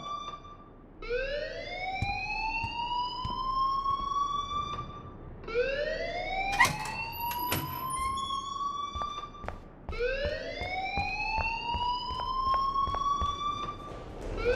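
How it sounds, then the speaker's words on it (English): A fire alarm blares in the video game Life is Strange: three loud rising electronic whoops, each sweeping upward and sustaining before restarting, with no talking. "please turn off that alarm since that's your job"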